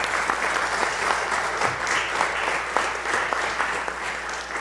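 A church audience claps in a steady, even round of applause, moderately close and continuous for the whole stretch with no talking over it.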